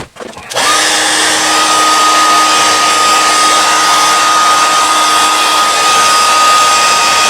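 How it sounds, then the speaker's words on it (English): A handheld hairdryer switches on after a brief quiet moment and blows a loud, steady whooshing roar with a faint motor whine, drying airbrushed acrylic paint on a skin-tone piece, running continuously close by with no talking. "I'm going to hit it with the hairdryer."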